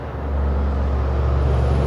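A truck rumbles past at night with a deep, steady engine drone that swells and holds, close and loud, with no one talking.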